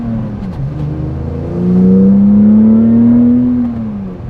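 Porsche on a quick test drive after a DIY boost leak fix, engine note climbing smoothly under light throttle, a steady close drone that swells in the middle and eases off toward the end, with no talking.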